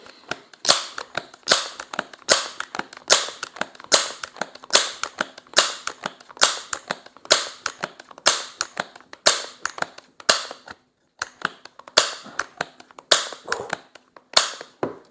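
A Crosman 1300 Medalist .22 multi-stroke pneumatic pistol is pumped up for a high-power shot, making a long series of sharp, close clacks at a steady rhythm with one brief pause, and no voices.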